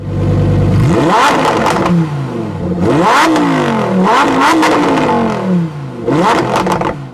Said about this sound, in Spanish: es uno de los mejores sonidos de escape de cualquier deportivo exótico del mercado